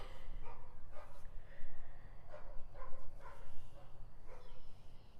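A dog barks several times in irregular bursts at moderate distance on a farm, the yips and woofs rising over a low background hum.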